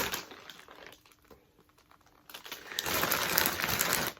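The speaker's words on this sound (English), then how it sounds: "these are some of my Ziploc bags" Plastic Ziploc bags being handled in a sewing workshop: soft crinkling and rustling, quiet at first, then a louder, steadier burst of close crumpling toward the end, with no talk.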